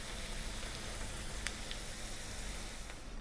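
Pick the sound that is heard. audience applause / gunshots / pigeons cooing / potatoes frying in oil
potatoes frying in oil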